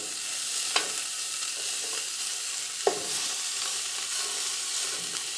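A rack of lamb sears in a hot pan with a steady, soft sizzle throughout, broken by a couple of sharp clicks or taps of a utensil, with no talking over it.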